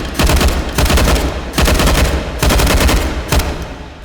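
A G36 rifle in the virtual reality game H3VR firing on full auto, loud close bursts of rapid shots in four long runs with brief gaps between them, no talk.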